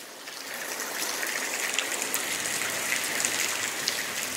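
Water trickles and splashes softly down a small muddy forest waterfall in Shawnee National Forest, a faint steady hiss with no voices.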